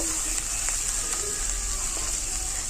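Ground spice paste hits hot oil with whole tempering spices in a pan for a potol paneer curry, giving a steady, close hiss of frying with a few faint clicks over it.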